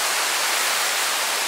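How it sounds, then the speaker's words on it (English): The Rydal Vale waterfall running full after good rains gives a loud, unbroken hiss and roar of falling water with no other sounds over it. "the Rydal Vale waterfall"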